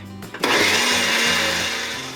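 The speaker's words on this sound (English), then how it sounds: "So I'm gonna blend this up" A blender whirs loudly and continuously after a short start-up, its motor droning steadily through a thick cottage cheese pancake batter.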